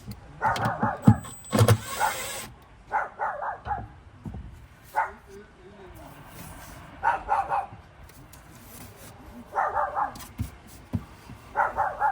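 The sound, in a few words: dog barking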